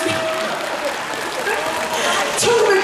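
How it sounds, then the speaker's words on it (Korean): Applause from the audience at a ventriloquism stage show, a dense, steady clapping that swells toward the end and runs under spoken voices. "박수를 쳐라!"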